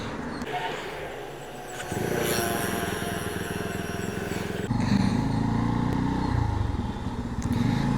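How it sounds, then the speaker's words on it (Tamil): A TVS Apache motorcycle is heard nearby: a start-up click followed by the engine catching into a steady, chugging idle that grows louder, with muffled voices and clatter around it. "ஓகே, வண்டி ஸ்டார்ட் பண்ணலாம்."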